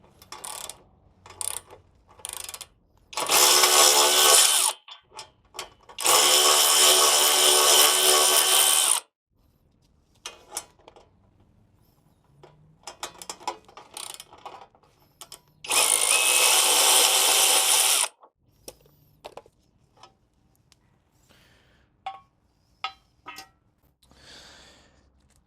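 A ratchet removes half-inch bolts from the chain shield of a McLane reel mower, with three loud, sustained bursts of rapid close-up clicking separated by quieter handling clinks and taps.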